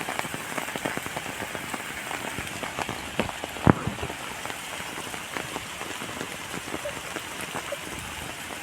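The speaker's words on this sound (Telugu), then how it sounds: "ఇప్పుడే వర్షం పడుతుంది" Rain falling steadily on a surface with dense pattering drops and a few louder taps, an even continuous wash of sound, no voices.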